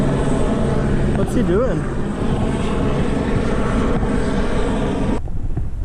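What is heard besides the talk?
helicopter flying overhead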